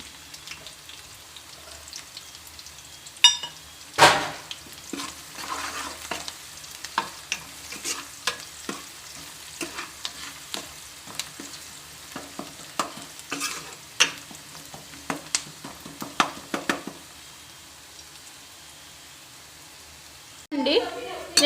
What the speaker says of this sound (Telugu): బ్రౌన్ కలర్లోకి వచ్చేసింది. మనం ఇప్పుడు పసుపు వేసేసుకుందాం.